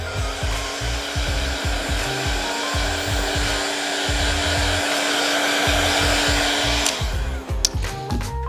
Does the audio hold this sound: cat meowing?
no